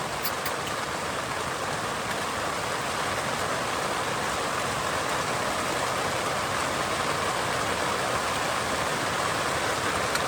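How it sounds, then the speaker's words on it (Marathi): Heavy monsoon rain pouring steadily over a campsite, a dense unbroken hiss of drops that stays even and fairly close for the whole stretch, with no voices. "आता हातावर लागेल पावसाची"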